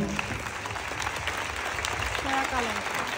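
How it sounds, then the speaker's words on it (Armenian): Warm audience applause at a cultural ceremony, steady clapping held at an even level throughout and mixed with a faint voice underneath. "Խնդրեմ ջերմ ծափահարություններ հնչեցնենք"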